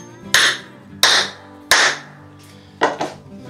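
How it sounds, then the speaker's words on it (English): A hammer pounds a carriage bolt into wood while a bead breaker is assembled: five sharp, close, loud blows, roughly evenly spaced, the last two coming in quicker succession, with no talking. "I'm just going to pound that carriage bolt into the wood."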